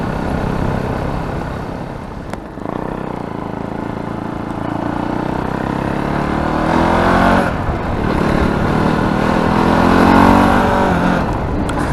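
Fantic Caballero Scrambler 500 motorcycle, a 40-horsepower single, riding and pulling hard through the gears, its engine note loud and close as it rises in pitch with each acceleration over steady wind rush.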